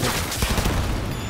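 Loud, close gunfire from the video game Cyberpunk 2077, a rapid burst of shots rattling densely together with heavy low-end thumps and no pause between them.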